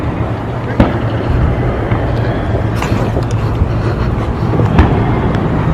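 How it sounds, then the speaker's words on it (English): Fireworks at Knott's Berry Farm amusement park: a few sharp distant bangs at irregular intervals over a steady wash of crowd murmur and outdoor rumble. "They are doing fireworks."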